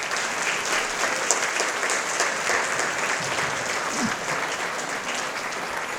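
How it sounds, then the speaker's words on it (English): Audience applauding a doctor after a talk on accessing care for MS, steady sustained clapping from a room of people, even in loudness across the whole stretch. "let's give the doctor a round of applause"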